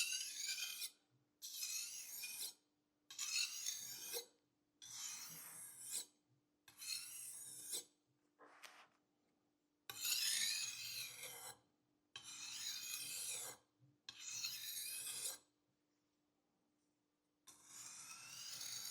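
A kitchen knife being sharpened on a fine whetstone makes repeated rasping scrapes, about ten strokes in a steady back-and-forth rhythm with short pauses between, close and clear with no talking.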